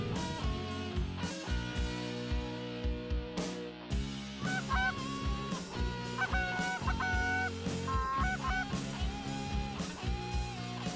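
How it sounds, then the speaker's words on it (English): Canada geese honking during a duck and goose hunt, a flock calling in repeated loud, overlapping honks with a strong rhythmic pulse, close and clear with no talk. "Honkers out front, 10 o'clock."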